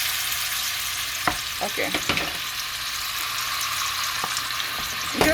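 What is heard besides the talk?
beef frying in hot oil in a pot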